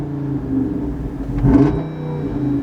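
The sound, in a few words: Jeep Wrangler 392 V8 engine starting and revving with valves open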